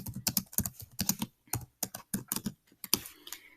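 Rapid, uneven clicking of computer keyboard keys, close and clear, in short bursts with brief pauses.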